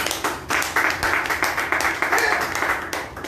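Church congregation applauding and cheering together during a French-language worship service, a steady dense wash of clapping that carries loud and unbroken throughout.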